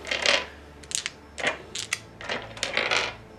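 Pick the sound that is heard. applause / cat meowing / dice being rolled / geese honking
dice being rolled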